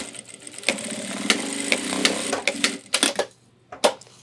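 Sewing machine stitching down a single fold on the hip belt of an ultralight 30L backpack, giving short uneven runs of stitching, clicks and handling knocks, close by with no talking.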